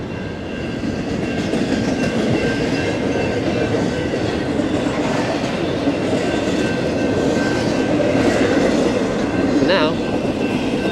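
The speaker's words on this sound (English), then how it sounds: "a train coming right now" A very long train rolls past close by a rider stopped on an e-bike, a steady loud rumble and rail clatter lasting throughout, with a brief high wheel squeal near the end.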